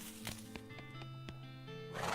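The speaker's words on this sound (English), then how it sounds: "Most typical horse you've ever seen." Horse in the western video game West of Loathing, giving a clear whinny over a few clip-clop hoof beats, fairly quiet and with no talk.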